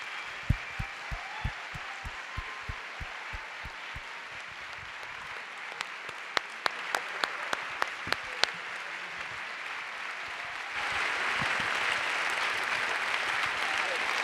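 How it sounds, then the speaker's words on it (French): Audience applause at an evening forest talk event, a steady wash of clapping from a crowd, dotted with sharp individual claps standing out at times and swelling louder toward the end, with voices mixed in. "Je voudrais des tonnerres d'applaudissements"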